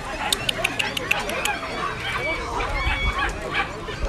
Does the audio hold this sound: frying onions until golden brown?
no